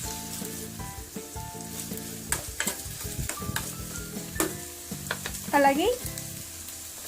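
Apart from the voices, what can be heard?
thinly sliced onion frying in pan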